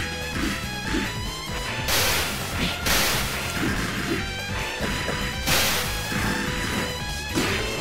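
A bomb attack goes off in the fighting game Immaterial and Missing Power, with heavy crashing bursts and swishing hits in rapid sequence, loud and busy against game music, with no talking.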